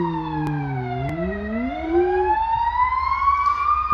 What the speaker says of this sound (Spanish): Pero, ambulancia.